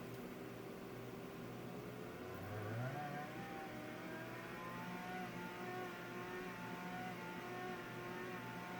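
A Red Bull RB16B model race car's engine sound revs up and is then held at a steady pitch with the upshift button pressed, a continuous electronic-style drone that rises in tone and stays level throughout, with no talking.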